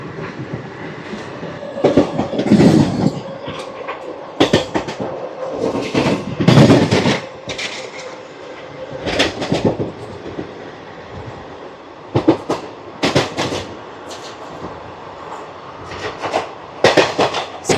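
The Ratnachal Express runs along the tracks past Narsipatnam Road station without stopping, heard from inside as a continuous rumble broken by repeated loud clattering bursts over rail joints and points.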